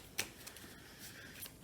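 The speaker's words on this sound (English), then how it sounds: "Give these a shuffle." Board game cards are shuffled for Farplace, a quick riffling flutter with a few sharp snaps, close and fairly quiet, with no voices.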